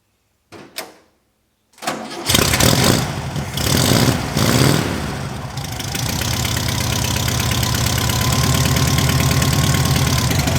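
A few clicks and a short crank, then an air-cooled car engine catches and revs loudly before settling into a steady, chattering idle.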